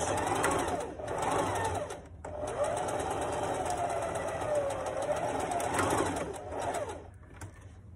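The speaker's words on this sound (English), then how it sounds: "I'm stitching right to the edge." A sewing machine runs a lapped seam right along the fabric edge, giving a loud, steady mechanical whir with short breaks around two and six seconds and no voices.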